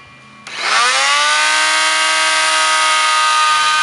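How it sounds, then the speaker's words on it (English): Rockwell Sonic oscillating tool making plunge cuts for an electrical outlet hole: a loud, steady high-pitched buzzing whine that starts abruptly and holds evenly, close and alone. "now I'm using my Sonic tool from Rockwell to make my plunging cuts into the material to cut out the hole for the electrical outlet"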